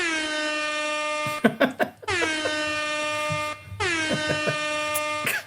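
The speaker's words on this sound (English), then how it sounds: "I may have to have the air horn upset alert." Three long, loud blasts of an air horn at a college football tailgate, each a sustained brassy tone, separated by brief clattering bursts.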